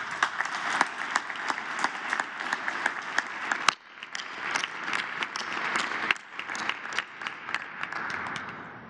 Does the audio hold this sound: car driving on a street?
no